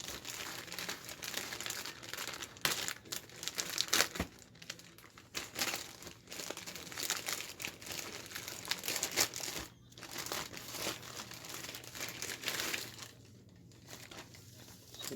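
Plastic packaging around a Boya microphone crinkles and crackles as it is unwrapped, in close, irregular bursts with brief quiet gaps.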